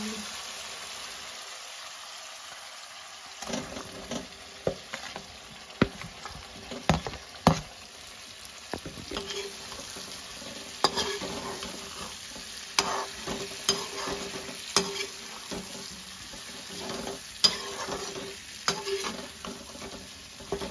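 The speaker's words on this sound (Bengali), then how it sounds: "মশলাটা অল্প ভাজা হওয়ার পরে আলুটা ভাজা হয়ে গেছে" Potatoes fry in spices in a pan for an alu paneer jhol, with a steady soft sizzle and repeated sharp scraping stir strokes, after a brief near-silent start.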